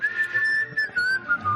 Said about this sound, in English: In the background, we hear a group whistling the Mormon primary I Hope They Call Me on a Mission.